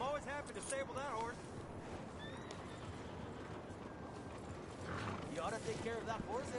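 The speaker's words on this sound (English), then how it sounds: "You ought to take care of that horse there. Real fine beast." Horse neighing with clip-clopping hooves in the Red Dead Redemption 2 video game, set at a stable, a whinny near the start and another near the end over continuous game ambience.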